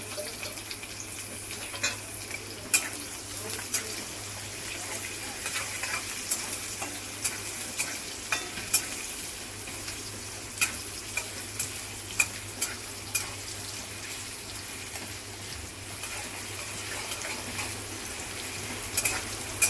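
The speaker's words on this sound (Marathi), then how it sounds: "लसूण थोडा गरम झालेला आहे। आता हा कांदा टाकायचा आहे।" Onion frying in hot oil with garlic sizzles steadily for a long stretch, broken by frequent sharp clicks and pops of spatula stirring against the pan, close and without talk.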